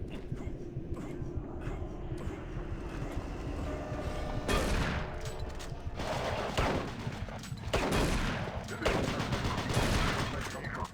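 Rapid shotgun blasts in a video game sound off in close, loud bursts over a busy game soundscape, several sharp shots clustering in the second half.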